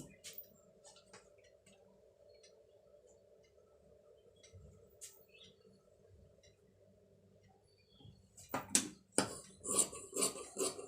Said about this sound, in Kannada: ನೋಡಿ ಈ ಬಾರ್ಡ್ರನ್ನ ಸ್ಲೀವ್ಸಿಗೆ ಕಟ್ ಮಾಡ್ಕೊತೀನಿ